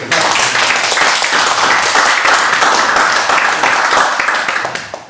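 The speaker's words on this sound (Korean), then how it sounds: "박수 한번 같이" A loud, dense round of group applause fills a meeting room during a Korean overseas study-trip review gathering, holding steady before tapering off at the end.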